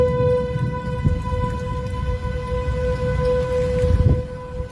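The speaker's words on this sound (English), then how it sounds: "I hear the rain comes." Rain falling in open country near Enderlin, North Dakota during an EF5 tornado, a steady soft hiss under wind rumble, with a distant civil-defense siren holding a sustained wail throughout.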